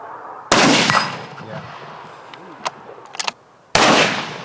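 Rifle fired at a muntjac deer while hunting: a loud, close crack with a trailing echo, some faint small noises in between, then a second sharp blast near the end.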